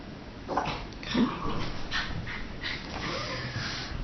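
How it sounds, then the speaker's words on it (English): A dog in the background whimpers and yips in short, uneven bursts, fairly close but soft, with breathy sounds between the cries and no speech. "Don't mind my dog in the background. Sometimes she can be a bit crazy and bark."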